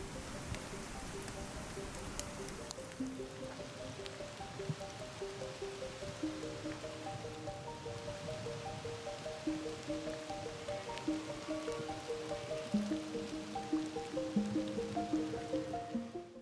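Heavy rain falls steadily outdoors during the red deer rut, a dense, continuous wash of drops that swells slightly louder toward the end, with tonal calls faintly woven through it.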